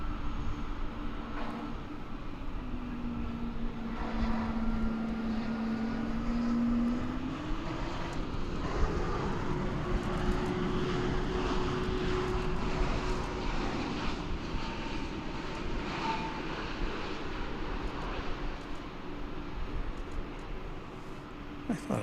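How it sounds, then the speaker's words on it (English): A Boeing 787 Dreamliner airliner arrives at DFW Airport after a long flight, heard as a steady, distant jet roar with a faint whine throughout, and a voice speaks briefly over it. "It's a 787 Dreamliner."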